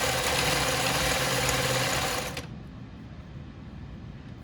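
Sewing machine stitching a shirt sleeve seam, a close, steady motor whir with rapid needle chatter that stops abruptly about halfway, leaving quiet room tone.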